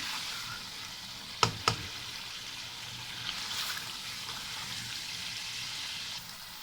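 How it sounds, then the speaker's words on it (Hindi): Chicken karahi frying with spices in a wok, a soft steady sizzle with a couple of sharp clanks of a utensil against the pan early on, faint and close. "इसको अच्छे से हम मिक्स करेंगे, और हम इसको स्पाइस के साथ हम इसको भूनेंगे।"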